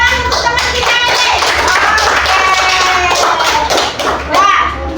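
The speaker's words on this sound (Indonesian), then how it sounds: "Tepuk tangan untuk teman kita ini." Classroom applause for a classmate, a burst of hand clapping from a group of schoolchildren filling the room, steady and fairly loud, with children's voices mixed in.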